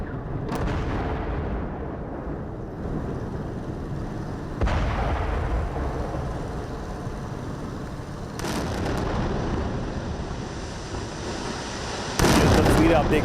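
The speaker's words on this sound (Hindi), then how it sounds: "धमाके के साथ बिल्डिंग्स ध्वस्त होती दिखाई दे रही हैं।" Heavy explosions strike buildings in war footage from the Israel–Hamas conflict. Four deep, booming blasts come several seconds apart, each followed by a rumbling roar of collapse and debris.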